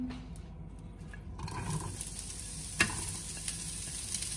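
Onion frying in a modest amount of oil for ratatouille, a steady hissing sizzle that swells after a quieter start, with a few stirring clinks and scrapes close by and no talking.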